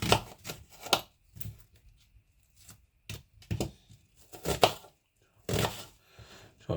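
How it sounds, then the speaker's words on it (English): A knife chops an onion on a board in a home kitchen, in short irregular bursts of sharp cuts, close and fairly clear, with quiet pauses between the strokes. "then chop the onion"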